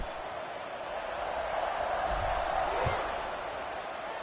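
A stadium crowd in the CFB 26 college football video game, Houston against Texas Tech, gives a steady, broad roar of cheering that swells slightly before settling, under play-by-play commentary.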